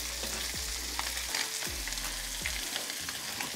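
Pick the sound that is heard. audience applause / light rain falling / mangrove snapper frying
mangrove snapper frying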